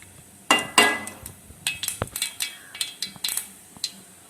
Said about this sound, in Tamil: இப்போ பாருங்கள், கடுகு நல்லா பொரிய ஆரம்பிச்சுங்க